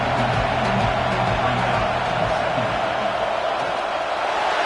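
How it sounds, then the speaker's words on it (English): Loud, sustained stadium crowd roar in a football video game, filling the space, a dense wash of cheering and noise with a low rumble underneath, no clear voices. "This crowd bringing the energy and noise early."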